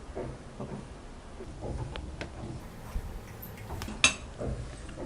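A knife slices through a tray of set coconut burfi, giving a few faint, scattered ticks and clicks against the plate, with one sharper tap standing out over quiet kitchen background.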